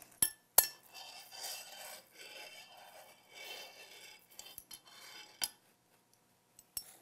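Utensils scrape and clink in a bowl of New Mexican bizcochito dough as anise seeds are worked in, a soft rubbing texture broken by a few sharp metallic taps, close and moderately quiet with no talking.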